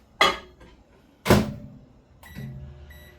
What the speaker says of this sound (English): So I'm going to pop this in the microwave oven.